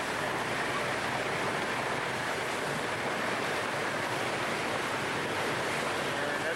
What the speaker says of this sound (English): the wind picked up pretty good and it's getting a little choppy